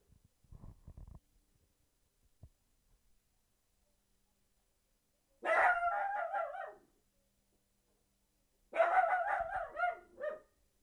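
A dog barks in the background: a short muffled burst early on, then two louder sustained bursts of rapid barking separated by silence.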